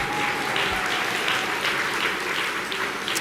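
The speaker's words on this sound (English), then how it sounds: "Once again, can we give a big round of applause to our" Luncheon audience applauding award winners at a leadership awards event, a steady, full wash of clapping throughout the short stretch.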